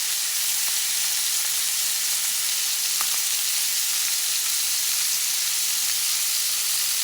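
Garlic sizzles steadily in hot butter in a frying pan on an electric stove, a loud continuous close hiss with no talking.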